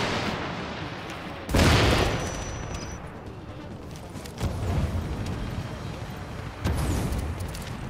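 Grenade blasts in the shooter game The Division: three heavy booms, the first and loudest, each followed by a rumbling tail. Gameplay noise runs underneath and a voice is heard faintly.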